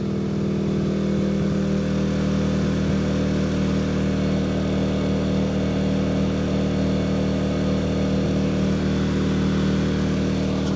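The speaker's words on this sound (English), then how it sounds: "It's a very quiet generator." A small 2,000 watt inverter generator runs at a steady, even drone, close and continuous with no change in pitch and no talking over it.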